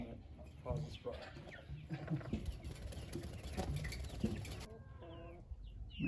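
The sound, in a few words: chickens in a farm chicken run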